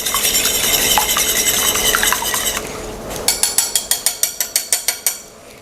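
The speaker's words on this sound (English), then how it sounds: "Now we beat. Without splattering it everywhere." Egg yolks beaten with a whisk in a bowl while making lasagna filling, a busy scraping clatter at first, then a run of quick, evenly spaced metallic taps close by.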